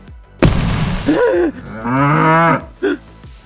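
A cow in an animated fantasy scene lets out a loud, close moo in two drawn-out parts, then a short final grunt, with no talk over it.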